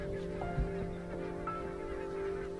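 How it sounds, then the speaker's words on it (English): Barnacle geese honk at a Scottish river in winter, a few scattered calls rising over a steady hum of flock noise and water, moderately distant, with no talk. "Every winter, barnacled geese arrive right on cue at the same Scottish river."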